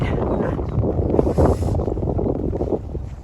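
Strong outdoor wind buffeting the microphone, a steady loud rumbling roar with gusty surges throughout.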